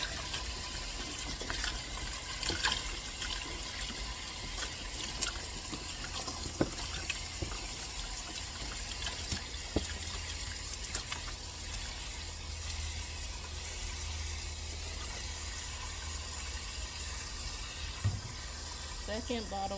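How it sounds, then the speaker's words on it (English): A bottle of regular white vinegar glugging into the side of a blue plastic bin, a steady near gush of liquid running throughout with faint background noise; no talking. "This is regular white vinegar. 1 bottle going in to the side of the blue bin."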